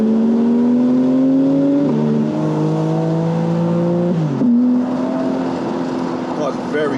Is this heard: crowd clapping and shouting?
no